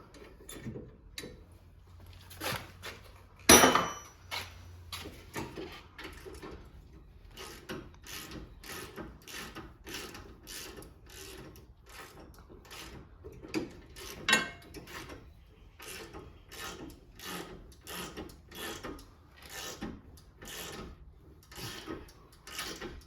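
Close clicking of a hand ratchet loosening a Loctite-coated brake bracket bolt on a 2000 Chevy Tahoe LS, a long run of quick, even ratchet clicks with one sharp louder crack near the start.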